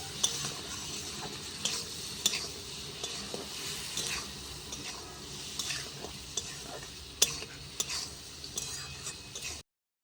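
Taro and shrimp with salt and turmeric fry in a pan on a clay stove, giving a close sizzle under repeated scraping stirs and clinks of a utensil against the pan, with no talking, until it stops abruptly.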